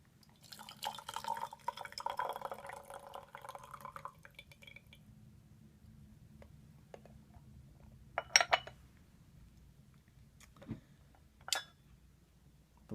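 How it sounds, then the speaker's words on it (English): Tea strained from a porcelain gaiwan, with the lid tilted to hold back the leaves, pouring in a soft stream for a few seconds before light clinks of lid and cup. "one hand grabs the cup, and the other hand tilts the lid slightly"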